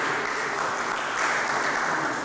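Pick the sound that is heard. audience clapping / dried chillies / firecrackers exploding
audience clapping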